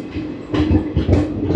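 A Balurghat Express passenger train rumbles along, heard from inside a general coach, with loud rhythmic clickety-clack wheel beats repeating over a continuous rolling rumble.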